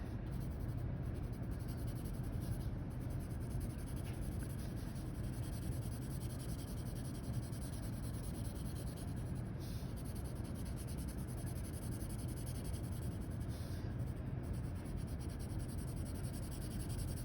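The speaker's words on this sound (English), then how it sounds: "we're going to start off by just taking our pencil and starting to blend" Graphite pencil blending and shading on paper, a steady soft rubbing and scratching that continues evenly throughout, fairly close, with no talk.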